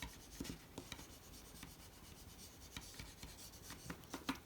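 Paper fold on an advent calendar box being burnished to seal it, heard as soft, close rubbing and scraping strokes in a loose, irregular rhythm, quiet with no talking.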